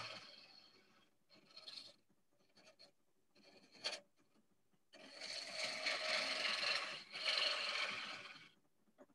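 A woodturning tool cutting wood on a lathe: short scraping, rasping bursts, then a longer, steady, louder cut near the end, with quiet gaps between.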